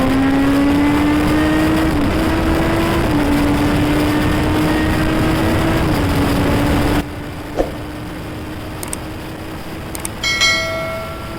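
A Kawasaki Z900 motorcycle's exhaust drones loudly and steadily as the engine holds a rising tone for several seconds, then drops suddenly to a quieter idle with a few faint clicks.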